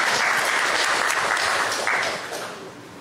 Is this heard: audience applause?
yes